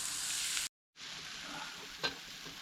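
Steak sizzling over an open campfire, a steady close hiss of frying that drops out briefly in a short gap, then resumes with a small pop or crackle.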